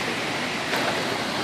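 Waterfall at Termas El Rincón hot springs in Coñaripe, a steady, close, full-bodied rush of falling water that stays constant throughout with no voices.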